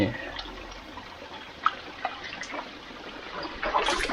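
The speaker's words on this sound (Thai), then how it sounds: "เสียงน้ำไหล ตามธรรมชาติ งดงามยิ่งนัก" Soft, steady trickling water from a natural forest stream runs throughout, with a few light splashes and a brief louder gush near the end.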